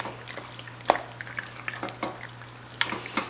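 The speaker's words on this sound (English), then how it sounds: "Stir that all together, and those jumbo macaroni shells, and you can use shells too, will suck up all that cheese" Jumbo macaroni shells are stirred into a thick cheese sauce, giving a run of irregular, close, wet squelches and spoon scrapes over a low steady hum, with no talking.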